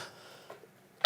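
A single sharp cough from a male lecturer during a high school math lesson, loud and close, coming abruptly after near-silence.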